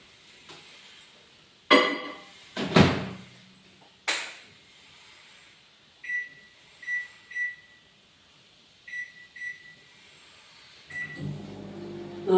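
Microwave oven heating milk in a home kitchen, with scattered knocks and clatter of the door and dish, then a run of short high electronic beeps from the keypad.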